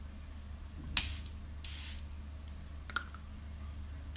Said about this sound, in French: Je vais m'arrêter à 2 pompes parce que ça libère beaucoup de produits à la fois.